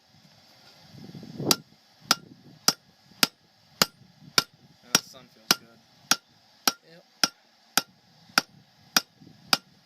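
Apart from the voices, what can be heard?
hammering hot metal at a forge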